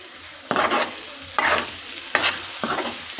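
Ajwain seeds and chopped onion frying in hot oil, with four sharp bursts of loud sizzling as the pan is stirred, each flaring up and then settling back into a steady crackle.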